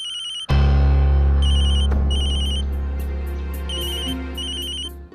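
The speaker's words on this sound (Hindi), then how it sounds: "सुबह किसका फोन है?" A telephone ringtone sounds in a repeating electronic pattern of bright tones over a steady low hum, loud and close, with no talking.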